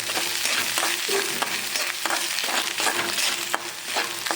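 Grated coconut roasts in a hot pan for a garlic and curry-leaf curry, giving a steady close sizzle. A spoon scrapes and stirs through it at a regular pace, and no one speaks.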